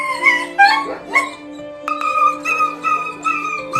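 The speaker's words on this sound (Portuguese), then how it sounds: "Um policial ouviu os gritos de um cachorro infeliz" A dog whimpers and yelps in high, tremulous cries, interspersed with short whiny howls, close by and fairly loud.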